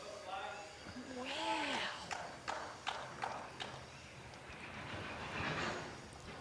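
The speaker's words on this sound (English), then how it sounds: "So we hear a rather large train trundle through in the background of the Salisbury Bowling Club." A large train trundles past in the background of the Salisbury Bowling Club lawn bowls venue, a steady rumble with rhythmic clunks of the wheels, moderately distant, with voices speaking over it.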